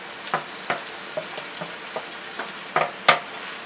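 Pork and beef are pushed and stirred in a pot for baked beans, a spoon scraping and knocking in irregular strokes over a low, steady sizzle, close up with no talking.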